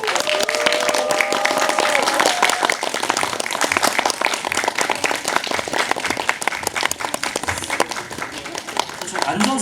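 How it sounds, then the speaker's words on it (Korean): Audience applause at a film screening and Q&A for the movie Invasion, a dense, loud ovation with cheering voices and talk mixed in, lasting the whole stretch. "박수 한번 주세요."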